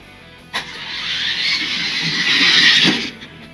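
Wheels of a toy Scania truck screaming down a race track, a sustained high-pitched squeal that rises in over about three seconds and then drops away, loud and close.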